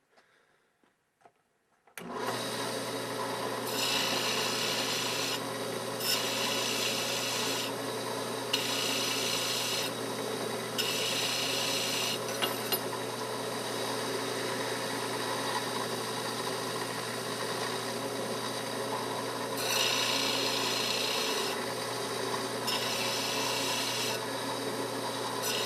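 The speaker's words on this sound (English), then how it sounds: "I'm going to clean this up just a little bit with the disc sander here" A disc sander grinds steadily against a rough, burred metal knife guard, loud and close. The pitch swells and eases in repeated surges as the piece is pressed and lifted, and no one speaks.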